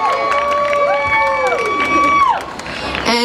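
Audience at a CKF 2016 event cheering and shouting for contestants, a loud mix of excited voices and high squeals and whoops, with children yelling in the crowd.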